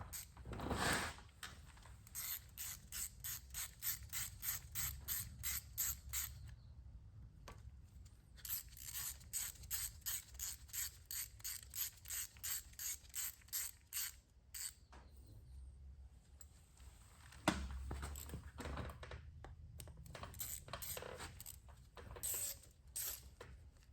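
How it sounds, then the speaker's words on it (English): A short ratchet turning bolts on the exhaust of a Raptor 250, quick runs of crisp clicking repeated in several bursts, close and clear with brief pauses and a few clunks between strokes. "I'm using a real short ratchet, so this is pretty delicate stuff"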